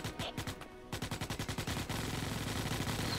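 Rapid automatic gunfire in the video game Starship Troopers: Extermination, two dense bursts of evenly spaced loud shots, the second running continuously to the end, with no talk.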